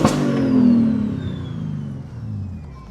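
Inside a single-turbo 900-horsepower BMW G80 M3 on another hard pull, a loud engine roar with a falling high whistle from the turbo, continuous and close with no talking.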